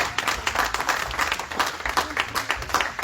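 A church congregation breaks into loud, fast applause for the Lord, a dense burst of many hands clapping close by for about three seconds.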